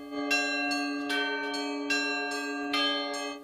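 Bells of the Pokrovska church at the Sich being rung by hand, with about five clear, loud strikes at a steady rhythm over a sustained ringing hum, and no voices.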